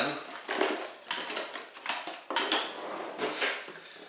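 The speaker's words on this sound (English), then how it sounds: "going to stir this just until the Jello dissolves" A spoon clinks and scrapes steadily against the sides of a bowl, stirring cherry Jello into boiling water in quick, repeated strokes, close and fairly quiet.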